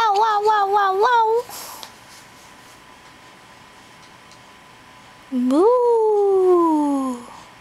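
A human voice imitates a cat, giving a quick run of short meows followed after a pause by one long, drawn-out falling meow, close and clear.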